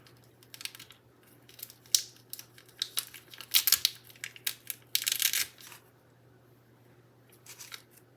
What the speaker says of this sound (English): Velcro.